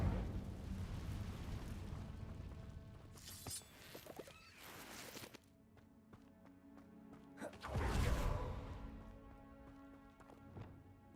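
An Incendio fire spell cast in Hogwarts Legacy on PS5, heard as a whooshing, roaring burst of flame around the middle, then a heavier, louder blast near the end over a steady bed of game ambience.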